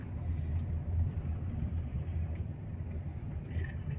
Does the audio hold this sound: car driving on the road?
yes